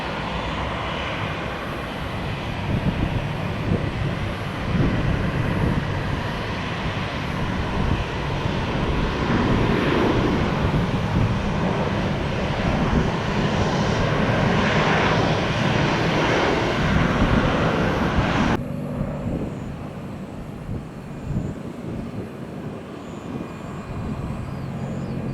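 A fixed-wing airliner comes in to land at Tampa International Airport, a loud, steady engine roar lasting about eighteen seconds before it drops off abruptly to a quieter rumble.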